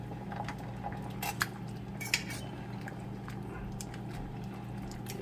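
Cooked lasagna pasta is mixed in a pot with a utensil, giving soft intermittent clinks and scrapes over a low steady background hum, with two sharper knocks.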